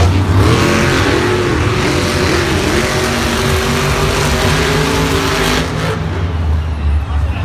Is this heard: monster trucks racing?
yes